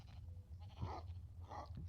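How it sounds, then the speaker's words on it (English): Sheep in a video game bleating after being hit by the player, two short faint bleats about a second apart over a low steady hum. "I just wanted to hit the sheep."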